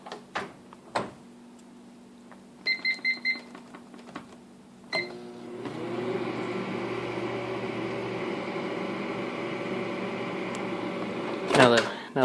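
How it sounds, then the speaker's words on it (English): A microwave oven beeps a few times after some clicks and handling, then hums steadily while it heats peanut butter ice cream, and ends in a sharp flurry of beeps. "Put it in the microwave."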